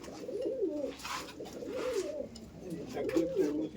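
Kalanka pigeons, a high-flying breed in a large loft at Ichapur, coo up close in three distinct rolling phrases separated by short pauses.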